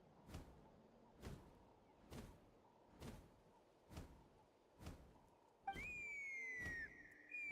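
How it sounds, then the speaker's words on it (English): A whistle sounds in the Chasca tribal quest video game, a bright rising then sustained tone near the end, following a steady series of soft rhythmic thumps. "That sounded like a whistle."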